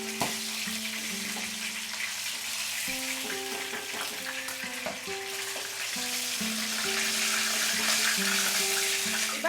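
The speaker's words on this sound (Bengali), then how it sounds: "আর এইভাবেই বাকি মাছগুলোও কিন্তু আমি ভেজে নেব।" Fish pieces fry in a pan of hot oil for a Bengali fish curry, giving a steady, close sizzle with crackling spatter throughout and some faint clinking in the background.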